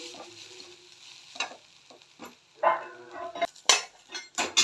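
Ingredients for thavalada batter sautéed in a pan, with sizzling under repeated scraping and stirring strokes and a few clinks of utensil against metal, close and fairly loud.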